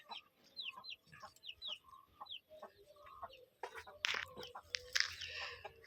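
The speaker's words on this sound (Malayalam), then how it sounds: "ഇതാണ് നമ്മുടെ കോഴി." A chicken clucks close by in a home yard, a run of short, repeated calls followed by louder squawky bursts near the end, alone and without talk.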